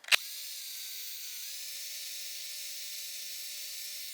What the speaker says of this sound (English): You want to drill straight through.